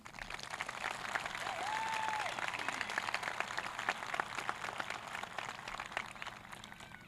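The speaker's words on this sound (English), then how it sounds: "may we please give a huge round of applause to all the teachers, administrators, counselors, and parents" An audience applauds at the Oak Hill High School graduation ceremony in 2022, a soft, steady roll of many hands clapping from a distance with a whoop or whistle rising briefly above it.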